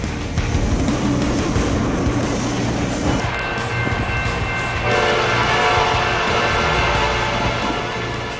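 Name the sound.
train at a level crossing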